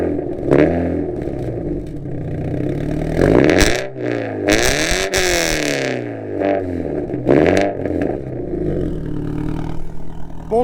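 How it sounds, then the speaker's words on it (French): A Toyota GT86 flat-four with a replaced exhaust line and open valves fires up and runs, rumbling loud and close with sharp revs rising and falling, no talking. "on démarre ce 4 cylindres à plat, qui tu vas le voir a une très belle sonorité"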